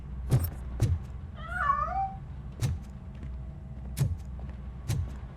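A cat in RoboCop Rogue City gives a single wavering meow that stands clear above the background. Sharp knocking or clattering hits recur around it, and no one speaks.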